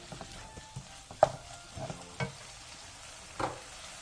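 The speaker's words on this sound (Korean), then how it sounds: "진간장 1스푼을 넣고 1-2분 정도 가볍게 더 볶아 간장 맛을 입혀주세요." Kimchi being stir-fried with soy sauce in a pan, a faint soft sizzle with scattered scrapes and taps of a utensil against the pan.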